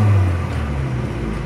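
A 1985 Austin Mini on the move, its small engine giving a loud, steady low drone with a slight dip in pitch partway through, close and continuous with no talk.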